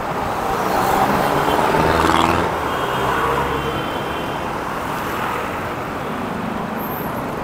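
Busy road traffic on Sucat Road near a Walter Mart shopping center, a continuous roar of passing cars and heavier vehicles at moderate distance, swelling briefly before settling into a steady wash.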